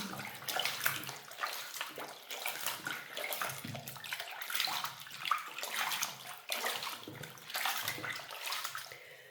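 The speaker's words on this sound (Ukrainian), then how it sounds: "І тепер починаю в холодній воді їх прополіскувати." Socks washed with liquid detergent are rinsed by hand in cold running tap water, a steady close splashing and sloshing stream with irregular swells, heard alone without talk.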